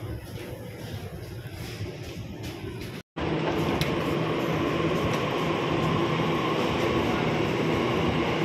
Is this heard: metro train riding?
yes